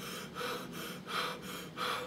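A voice imitates wheezing breath: three raspy, whistling inhalations in a steady rhythm, close and fairly loud, with no words.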